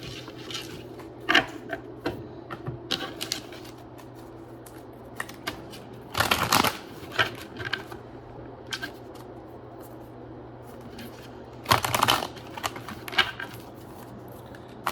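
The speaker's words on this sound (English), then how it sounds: "I'll actually shuffle a little better." Oracle cards being shuffled by hand, a few crisp riffling bursts and soft papery flicks spread through near-silent room tone, close and fairly quiet.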